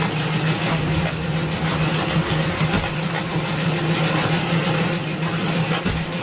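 A JCB excavator's diesel engine runs steadily just after starting, a continuous rumbling idle with a low hum and a rough, even texture, close by and loud, with no voices over it.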